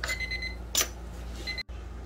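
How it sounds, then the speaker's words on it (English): A kitchen timer alarm goes off for vegetables cooking on the stove: a brief, bright electronic beep over steady kitchen background hum, followed by a short quieter tone. "there's our timer for the veggies"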